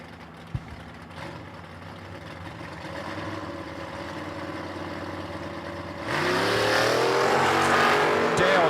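Camaro drag race cars launching and running down the track at a drag strip, engine drone building steadily then surging louder with rising revs, with an announcer talking over it.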